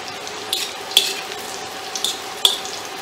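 Breaded chicken frying in very hot oil, a steady close sizzle with a few sharper crackles and spits breaking through at intervals.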